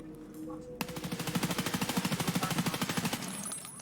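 An M4A1 rifle in the video game Escape From Tarkov fires a long fully automatic burst, rapid evenly spaced loud shots continuing for about three seconds after a brief quiet lead-in.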